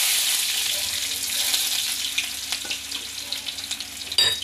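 Onions sizzle steadily in hot oil while greens are being cooked, a close, continuous crackle with light stirring scrapes toward the end.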